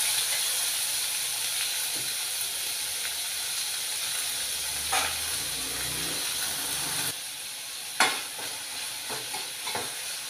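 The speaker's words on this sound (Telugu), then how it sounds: "ఇది బ్రౌన్ కలర్ వచ్చినంత వరకు వేయించుకోవాలి" Chopped onions fry in oil toward browning, a steady close hissing sizzle with occasional stirring clinks and a sharper knock, the sizzle softening briefly partway through.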